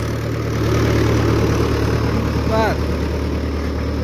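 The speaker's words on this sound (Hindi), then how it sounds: "ये हमारा महिंद्रा 585 चल रहा है" A Mahindra 585 tractor engine runs steadily while sowing maize in a field, a constant low droning hum with a brief spoken word over it.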